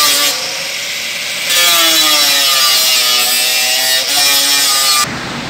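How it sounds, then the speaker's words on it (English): An angle grinder grinds rivets off a Condura front-load washer drum, giving a continuous loud, harsh whine with slowly shifting pitch as it bites into the metal, close and steady throughout. "So now we have to start the grind now."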